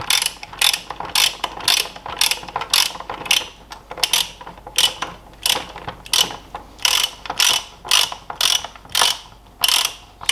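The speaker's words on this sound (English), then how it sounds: "at least my torque wrench will fit in here" Ratcheting torque wrench tightening wheel bolts on a BMW in a workshop, a rapid series of sharp clicking bursts repeating in quick rhythm, close and loud, with no talk.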